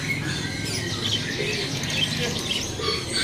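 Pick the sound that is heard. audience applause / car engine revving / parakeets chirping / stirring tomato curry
parakeets chirping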